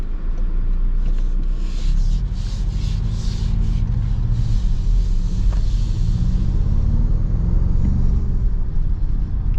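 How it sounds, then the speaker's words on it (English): Turbo engine of a 2026 Toyota Tacoma TRD Pro or Trailhunter truck rumbles steadily under acceleration, with a low drone and faint whooshing rising in pitch, heard moderately loud as from inside the cab. "Gotta love that turbo noise."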